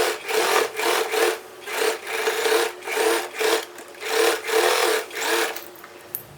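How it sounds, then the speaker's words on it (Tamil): A sewing machine stitches thick old denim jeans into a table mat in short rhythmic bursts, about ten even pulses of rasping whir that stop near the end, with no talking. "ஸோ நான் எல்லாத்தையும் தைச்சிட்டு அதுக்கப்புறம் உங்கள்கிட்ட காட்டுறேன்."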